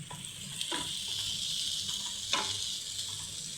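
Sausage fries in a pan for pasta with a steady, close hiss and sizzle, while occasional light scrapes and stirring knocks come through.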